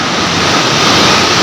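Fast-flowing canal water pours over a weir, a loud, steady broadband roar and rush of turbulent water with no pauses and no voices.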